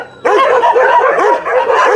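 Stray dogs bark and yelp in a loud, continuous, excited chorus, several animals close by with overlapping rising and falling cries.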